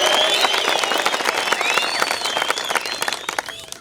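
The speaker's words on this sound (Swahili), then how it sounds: "Hebu nisikie shangwe na vikelekele kama tuko na furaha." Students at a school gathering clap and cheer loudly, with sustained dense applause and shrill whistles or ululating cries riding on top, steady throughout with no clear speech.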